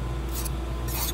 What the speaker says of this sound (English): And then file a little bit of a lead on there.